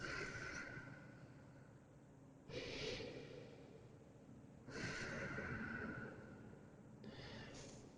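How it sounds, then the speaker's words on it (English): Deep, slow breaths during a yoga session, three long audible exhales rising and fading at a steady interval, close and fairly quiet, with no talking. "Same deep breaths."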